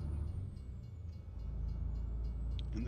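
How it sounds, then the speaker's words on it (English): A train rumbles past in American Truck Simulator, a steady low rolling drone of rail wagons heard from inside a truck cab, moderately loud and continuous, with no talk. "And there's a train coming."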